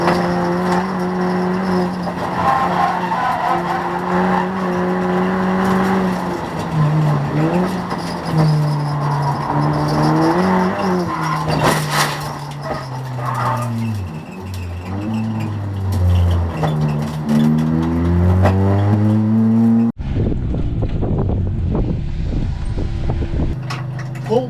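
An Audi TT TFSI race car is tested at Blyton Park, its engine note rising and falling loudly through gear changes and braking. Near the end the car runs off onto grass and gravel, with heavy rumbling and wind noise.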